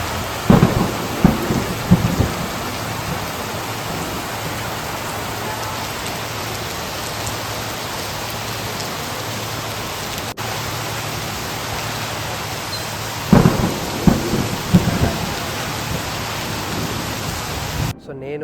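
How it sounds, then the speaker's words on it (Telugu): Heavy rain pours steadily during a Muslim wedding in Telangana, a dense close hiss with deep thunder rumbles near the start and again later, and faint voices underneath. "ఆ లెవెల్లో వర్షం పడ్డది."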